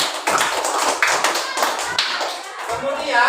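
Children in a classroom clap together for a classmate, a brisk burst of hand claps filling the whole stretch, loud and near, with some voices mixed in.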